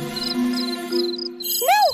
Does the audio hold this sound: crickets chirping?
yes